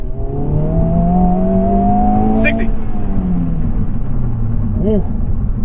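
A 2023 Honda Civic Type-R pulls hard from a standstill to 60 in +R mode, its engine note rising steadily through the gears with wheel spin, loud and close from inside the car, while a brief voice cuts in.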